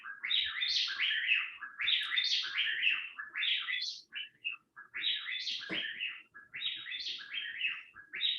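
A group of birds, up to seven together, sings a four-part duet. The song is a loud, continuous stream of rapid interlocking chirped phrases that repeats in bursts, with one short pause partway through.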